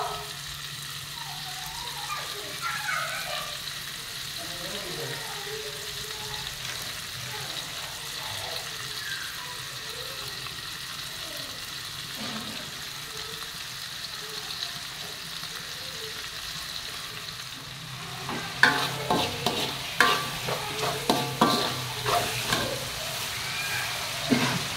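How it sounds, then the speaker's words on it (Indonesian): Cooking oil heats in a pan with a steady low sizzle and soft crackles, then frying grows louder with bursts of spatter and stirring near the end, no talk over it. "Sambil menunggu minyak masak."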